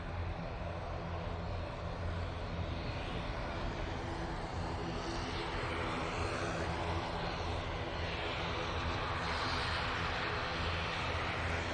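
An ATR 72 turboprop airliner at Manchester Airport gives a steady, broadband engine drone that stays even and fairly distant for the whole stretch, with a low propeller hum underneath and no voices.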